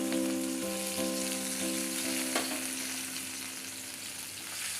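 Sugar syrup with paneer, coriander leaves and cashews bubbles and simmers in a pan for paneer chutney, a steady close sizzle with faint tonal hum and occasional light clicks, no voices.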